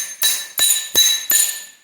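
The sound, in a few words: slapper hammer striking truck fender panel on dolly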